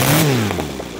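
A small OS FF320 gasoline-converted model engine with CH ignition drops from a high whine at full throttle, its pitch gliding smoothly down toward a steady idle, loud and close throughout.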